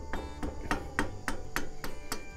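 Seven or eight sharp metallic hammer strikes land in an even rhythm on a tight brake bolt of a Toyota Corolla during a brake pad and rotor job, each one a bright ringing clank, close and fairly loud.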